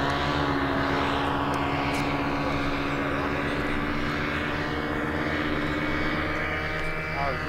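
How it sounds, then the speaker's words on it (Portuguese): A light propeller airplane passes overhead at a paramotor flying field, its steady engine drone loud and continuous throughout, with people talking in the background. "E o avião lá, ó."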